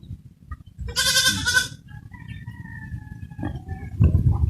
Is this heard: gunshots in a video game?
no